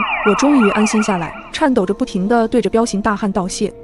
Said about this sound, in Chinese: 听着悦耳的警笛声